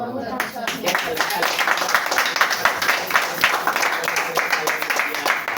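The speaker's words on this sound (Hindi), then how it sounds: "तालियों के साथ धन्यवाद" A church congregation claps after a sermon in dense, continuous applause that fills the clip, with a voice talking over it.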